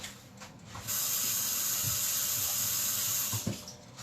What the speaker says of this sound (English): Okay, just washing my hands here.